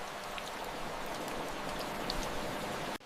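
Steady rain falls throughout in the rice terraces of Sapa, Vietnam, a dense, even patter of drops hitting surfaces nearby, with a few louder individual drips standing out before it cuts off.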